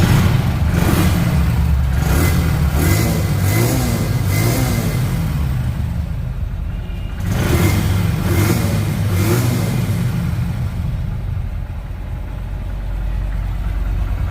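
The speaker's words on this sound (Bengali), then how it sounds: "গাড়িটি কিন্তু স্টার্ট অবস্থায় আছে একদম নিখুঁত সাউন্ড হোন্ডা কোম্পানির সাউন্ড" A three-month-old 2024 Honda Dream 110 motorcycle engine runs steadily close by, a loud low idle with a few blips of revving early on, heard alone without talk.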